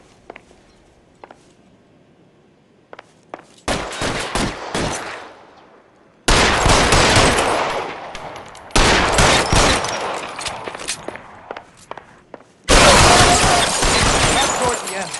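Gunfire in the video game L.A. Noire: scattered single shots give way to long, dense bursts of rapid automatic fire that alternate with short pauses, loud and close, with shouted voices among them.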